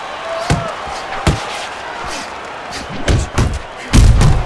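Punches land in the boxing video game Fight Night Champion, Andre Ward against Bernard Hopkins: sharp thuds and slaps come in quick bursts, with a heavier flurry near the end, over a low crowd murmur.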